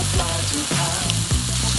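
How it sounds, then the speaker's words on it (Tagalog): Chicken frying skin side down in oil on an electric grill gives a loud, steady, close sizzle with crackling that stays constant throughout. "Nakakapakam talaga yung tunog ng pagpiprito."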